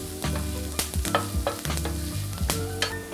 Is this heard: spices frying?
yes